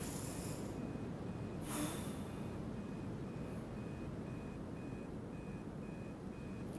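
Alarm clocks ringing in the horror video game Obsideo: a faint electronic beep repeats at an even pace over a steady hiss, with a brief breathy burst near the start.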